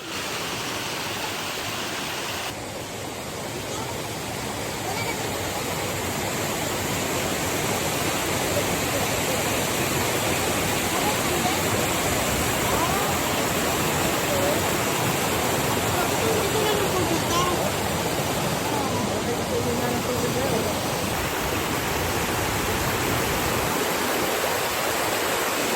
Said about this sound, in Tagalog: lalapitan natin yung waterfalls doon